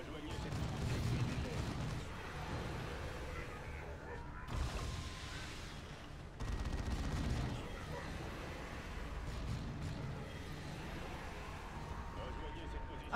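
Dense machine gun fire and explosions from the Dawn of War 2 video game roar almost continuously, a loud, thick wall of battle noise with a brief dip midway, with speech mixed in.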